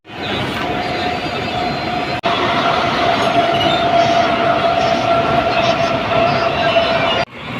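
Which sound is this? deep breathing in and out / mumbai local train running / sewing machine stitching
mumbai local train running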